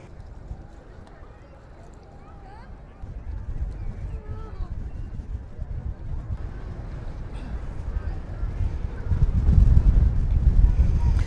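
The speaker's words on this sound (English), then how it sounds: "I can just hear the wind on my microphone this morning" Wind buffets a microphone on a breezy morning along the Alcudia coast in Mallorca, a continuous low rumbling roar that swells stronger near the end, with faint background sounds beneath.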